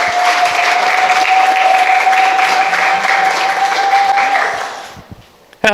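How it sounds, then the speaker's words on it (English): Sustained audience applause welcoming a speaker to the stage at a conference on gender-responsive climate action, a dense steady wash of clapping with a held tone running beneath it, fading out near the end. "Please welcome Dr. Heike Hen to the stage with a warm applause."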